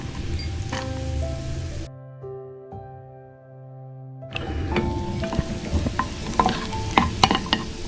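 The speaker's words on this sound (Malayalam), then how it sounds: "ഇപ്പം ഗീ ചൂടായിട്ടുണ്ട്. ഇതിനകത്തോട്ട് നമുക്ക് കാഷ്യൂ നട്ട് ഇട്ട് കൊടുക്കാം." Cashew nuts and raisins frying in hot ghee give a steady crackling sizzle with stirring scrapes, briefly cutting out before returning with sharper pops and spatters.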